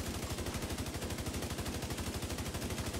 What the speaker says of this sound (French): Un pompe qui arrive à sniper des mobs à 10-15 mètres.